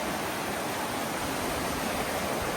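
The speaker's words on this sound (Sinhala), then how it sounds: "මෙන්න තියෙනවා හොයපු ගඟ" A large river rushes past in a steady, dense broadband roar, constant and close with no pauses, no voices over the flow.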